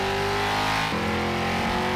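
A 1970 Charger muscle car roars in a racing video game, its loud, steady engine note shifting pitch partway through as it revs. There is no talking.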